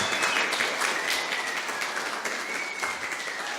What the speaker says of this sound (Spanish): Démosle un fuerte aplauso, bienvenidas